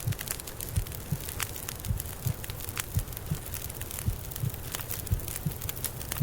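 A steady in-game heartbeat in The Long Dark while sleeping outdoors beside a fire on Timberwolf Mountain, soft regular low thumps repeating about twice a second beneath a faint crackling background.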